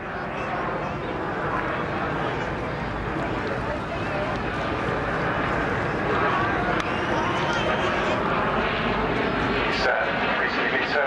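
A Jet Provost aircraft flies over the Southport Air Show, giving a loud, steady broadband roar that lasts the whole stretch, with voices faintly underneath.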